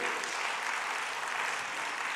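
Church congregation clapping during a Sunday worship service, a brief, even, fairly soft wash of many hands sustained without pause.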